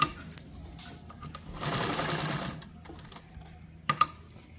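A sewing machine stitches a decorative design on a salwar mohri, running in a steady close whir that swells into a faster burst of stitching, then slows, with a couple of sharp mechanical clicks near the end.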